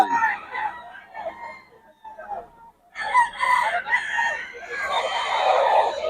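A Sweater gamefowl rooster crows and clucks close by, a few short clucks giving way to a loud, ragged crow that stretches over the second half.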